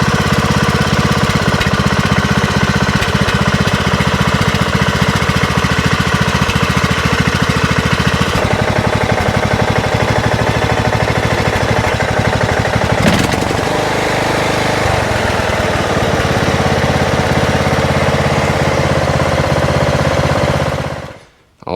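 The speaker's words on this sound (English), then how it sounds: "I'll insert a clip of the smoke that this engine was putting out." Smoking Craftsman riding mower engine running close by, a loud, steady, rough knocking chug that shifts slightly in pitch midway, then cuts off abruptly at the very end.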